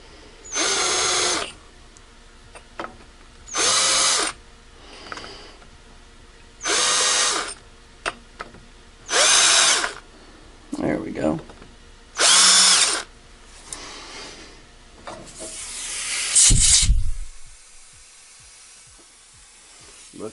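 Power drill milling an AR lower receiver for a tensioner screw, loud repeated whining bursts of about a second each, six or so in a row separated by brief pauses and small clatter, ending in a longer grinding run.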